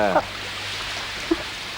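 Rain falls in a scene from a 1991 Tamil film, a steady broadband hiss running throughout, with a brief voice at the very start and a small soft knock near the middle.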